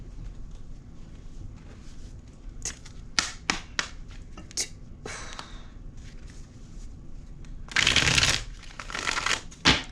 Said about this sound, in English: I'm going to pull a self-care card.